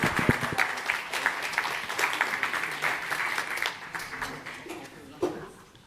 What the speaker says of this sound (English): I would love you to give a warm round of applause to my next guest, Suzanne DeBianca